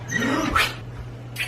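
A dog whimpers close by in a home at night, a couple of brief high whines over a low steady hum.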